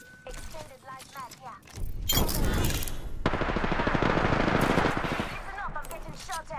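Gunfire in the video game Apex Legends: rapid automatic bursts rattle loud and dense for several seconds after a short lead-in, with game sounds and a voice around them.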